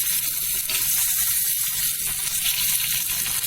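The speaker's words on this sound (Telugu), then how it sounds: "సో ఇది కొంచెం చిటపట్ అని అంటున్నప్పుడు, ఫ్రై అవుతున్నప్పుడు" Tempering spices with dried red chillies and curry leaves crackle and fry in hot oil for a ridge gourd chutney, giving a loud, steady, close sizzle with faint music underneath.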